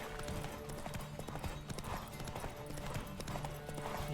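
A horse in the video game The Witcher 3 gallops at a quick, even rhythm of hoofbeats that keeps going throughout, with game sounds faintly underneath.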